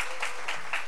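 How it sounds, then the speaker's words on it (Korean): A church congregation breaks into a brief round of applause to welcome a new member, with a few quick rhythmic bursts of clapping that sound moderately near. "박수로 환영하겠습니다."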